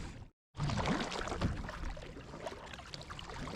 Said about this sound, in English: Let's just keep paddling along